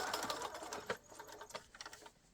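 A sewing machine stitches adhesive-backed binding onto a square-cornered art quilt. It gives quiet, quick patters of stitching in short irregular bursts with brief pauses between them.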